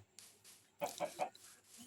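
Minecraft chicken clucking in three quick, fairly loud bursts close together mid-clip, with near silence before and after and no talking.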